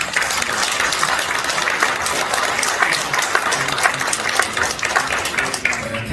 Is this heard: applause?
yes